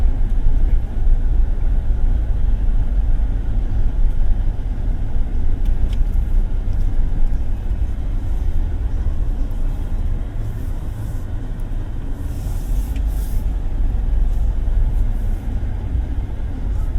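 A Suzuki Jimny 5-door drives over a cobbled road, giving a continuous low rumble of tyres and engine heard from inside the cabin, steady throughout with faint rattles.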